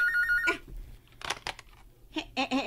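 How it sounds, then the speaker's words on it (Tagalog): A telephone rings indoors in short electronic trills that repeat in bursts, loud and close, with no speech over it. "Bagtig na telepono, oy."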